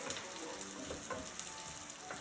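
Onion frying in a pan with a little salt and sugar, a steady close sizzle running throughout with faint crackles and no voices.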